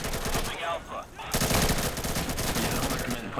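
Sustained automatic gunfire in the video game Insurgency comes as a dense, loud rattle of rapid shots with a brief lull before it resumes.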